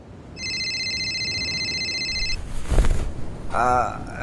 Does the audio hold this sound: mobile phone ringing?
yes